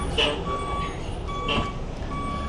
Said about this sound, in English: We've got another truck passing the original truck.